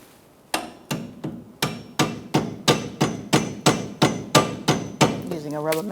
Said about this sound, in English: Using a rubber mallet, push it through.